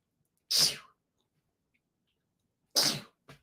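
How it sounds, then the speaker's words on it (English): Two sharp sneezes a couple of seconds apart, close and loud, with quiet between them and a short breathy sound at the end. "I have to sneeze."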